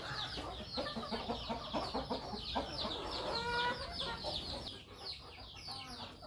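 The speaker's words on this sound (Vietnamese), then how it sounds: "Trong đây là một chuồng con gà mái đang nuôi con" A hen with her chicks clucks steadily inside a coop, kept in during stormy rainy weather, with layered nearby clucks and peeps running throughout over a soft background hum.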